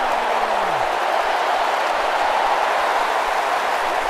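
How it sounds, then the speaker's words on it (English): A large stadium crowd at a preseason football game cheers and applauds in a steady, dense roar that stays loud and unbroken throughout, with no distinct voices standing out. "he gives a little shake to the crowd in appreciation for their cheers"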